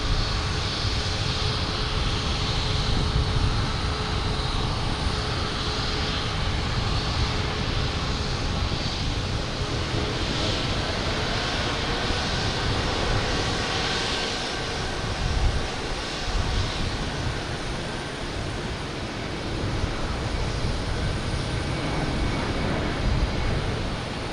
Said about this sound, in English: JetBlue is going to win the race. They're taking off first.